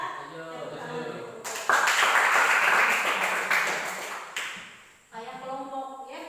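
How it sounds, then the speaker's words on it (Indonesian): A group breaks into applause for a few seconds, loud and dense, then it fades out as a voice resumes speaking. "Tepuk tangan dulu"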